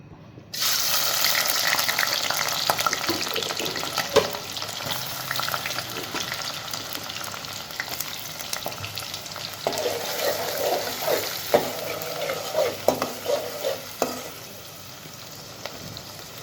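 Cauliflower, beans, eggplant and potato fry with shrimp in a pan, a steady loud sizzle with occasional stirring scrapes and clinks throughout.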